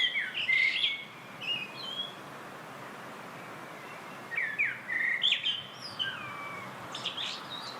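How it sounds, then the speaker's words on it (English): A strong-billed honeyeater calls in Tasmania, giving clear, high chirping phrases in two bursts with a quiet gap between them, fairly close and with no other sound. "Strong-billed, black-headed honeyeater endemic to Tasmania."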